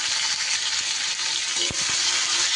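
Mixed vegetables including ridge gourd frying in a pan with salt and turmeric, a dense, loud, even sizzle with a couple of faint knocks from stirring, close up with no voices.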